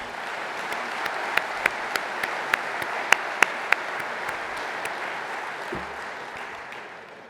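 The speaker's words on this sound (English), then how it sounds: "can you join me with a round of applause for their good effort?" A conference audience applauds in a steady wash of clapping, with several sharper, louder claps standing out near the middle before the sound tapers off at the end.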